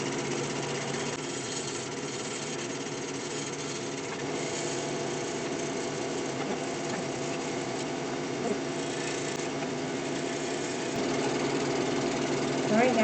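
A wood lathe turns a bowl while a chisel works it, giving a steady, loud motor drone with a grinding texture that holds evenly throughout and swells slightly near the end, close up.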